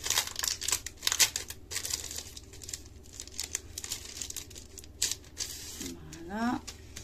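A crinkly plastic grocery package being opened by hand: steady close crackling and rustling with sharp crinkles throughout, fairly loud, and a short voice sound near the end.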